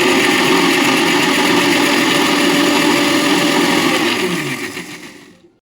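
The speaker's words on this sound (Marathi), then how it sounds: "एका मिक्सरच्या भांड्यात अर्धा वाटी स्वीट कॉर्न घ्यायचे आणि त्यामध्ये पाणी टाकून छान त्याची बारीक पेस्ट करून घ्यायची" Kitchen mixer grinder blending half a bowl of sweet corn kernels with water into a fine paste, a loud continuous whirring motor drone that winds down and fades at the end.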